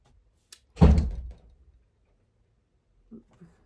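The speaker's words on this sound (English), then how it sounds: "It's very windy here today. My doors are slamming." A single heavy door slam in strong wind, booming and close, followed after a pause by two faint softer knocks.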